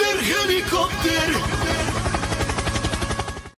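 A beatboxer imitates a helicopter with the voice, a steady rapid chopping pulse of rotor-like thumps that carries on continuously and loud, fading out at the end.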